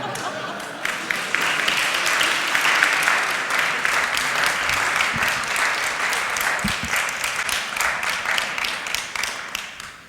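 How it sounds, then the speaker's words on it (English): A warm round of applause from the deputies at a board meeting, steady dense clapping that holds for several seconds before tapering off. "I think you can hear by the warm round of applause you got where we are on that"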